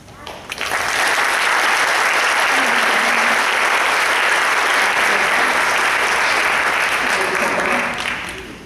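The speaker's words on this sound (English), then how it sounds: "So let's give them all a round of applause one more time." Warm, sustained applause fills a hall at a 2017 pinning and recognition ceremony at Hampton University, rising quickly, holding loud and dense for several seconds, then tapering off at the end.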